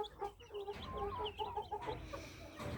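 Soft cheeping from a sick, weak chick comes in short repeated bursts against a quiet background, faint and close, with no voices.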